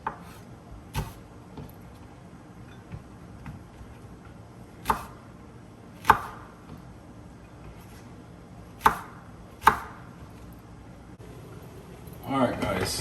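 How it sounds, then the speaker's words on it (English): A knife chopping okra on a board, a handful of sharp separate knocks spaced a second or two apart against quiet room background. "I'm just gonna cut like one okra in three, right?"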